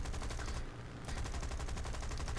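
The Typhoon Mk. Ia's machine guns fire in War Thunder, rapid sustained bursts of rattling gunfire broken by a brief pause, loud and close over a constant engine drone.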